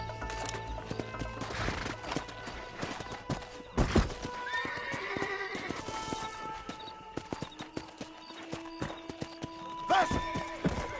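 Horse hooves clip-clop along with a loud whinny in the Red Dead Redemption video game, the hoofbeats steady and near under ambient game sounds, with a few bursts of louder activity.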